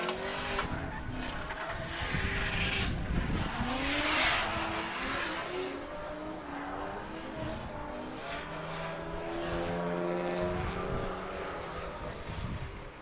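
Gray BMW E46 drift car sliding through a corner at Palm Beach International Raceway during a nighttime drift event, engine roaring at high revs with tire squeal and skidding, loud and continuous with shifting engine pitch.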